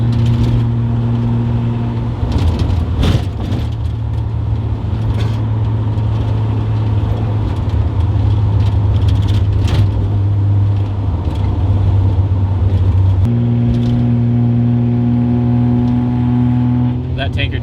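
A Datsun 280Z with a BruteFab Fujitsubo-style muffler cruises at about 55 mph, its steady low exhaust drone and road noise continuous from inside the car, with a slight shift in engine note partway through.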